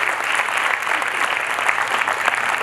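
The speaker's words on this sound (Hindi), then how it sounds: "2000 ताली" Applause for a children's drama performance, dense and steady clapping from a large audience throughout, loud and continuous with no pauses.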